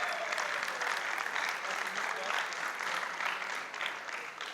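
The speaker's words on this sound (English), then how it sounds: "Big round of applause." Steady crowd applause for the winner of an LPAL2 wrestling match, Bastien Cervelli, heard at a moderate distance with an arena-like wash and a faint voice blended in.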